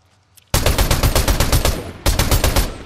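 Loud, close automatic gunfire in Fortnite no-build mode: a rapid string of shots bursts in after near silence, breaks briefly, then resumes in a second rapid volley.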